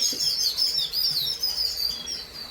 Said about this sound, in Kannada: ಪಕ್ಷಿಗಳ ಸೌಂಡ್ ಕೇಳಿಸ್ತಾ ಇದೆಯಲ್ಲ